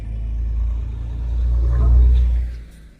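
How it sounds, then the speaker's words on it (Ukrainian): A big vehicle passes on a road in Ireland as a deep, low rumble that swells to a peak and then fades away, heard from a moderate distance. "Ой, там машина велика."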